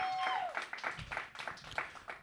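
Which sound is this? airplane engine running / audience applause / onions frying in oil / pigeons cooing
audience applause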